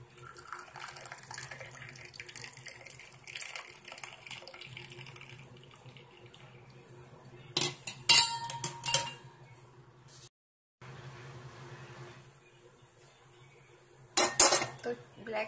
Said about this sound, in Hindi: कप में इसे निकाल लेंगे, इसे अच्छे छान के